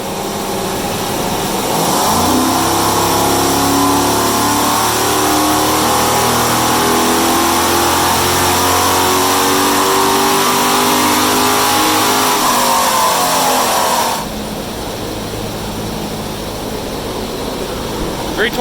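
A 6-liter car engine revs hard during a power test, its loud roar climbing in pitch and holding high before dropping back to a steady idle.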